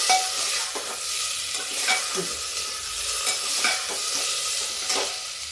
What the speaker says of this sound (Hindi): अब डालेंगे टमाटर। टमाटर इसी समय डालेंगे।